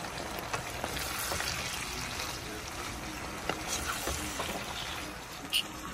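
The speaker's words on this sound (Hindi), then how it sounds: "सबसे पहले मैंने इसमें अनियन डाली और इसको मिक्स कर लिया।" Onions fry and are stirred in a pan, giving a quiet, continuous sizzling hiss with small scraping and crackling ticks scattered through it.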